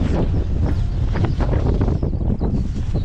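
Blustery wind on Welsh clifftops buffeting the microphone in rough, uneven gusts, loud and close, with no talking.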